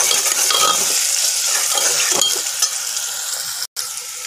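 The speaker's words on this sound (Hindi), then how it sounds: "प्याज हमारे भुन चुके हैं।" Onions with tomato and salt fry in a pan, producing a dense, bright, close sizzle that holds steady throughout, broken once by a brief gap near the end, with no talking.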